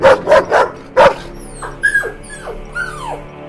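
A hungry stray dog in a cartoon gives a quick run of about four sharp barks, then trails off into a series of high, sliding whimpers and whines, loud and close with no talking.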